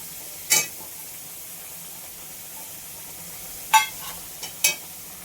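Whole spices spit and crackle in hot oil on a high flame in a few short, sharp bursts, separated by stretches of low hiss.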